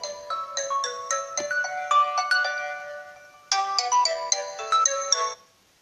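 An electronic phone ringtone plays on a call-in show: a bright, repeating melodic chime pattern that stops briefly and resumes, loud and clear, with no talking over it.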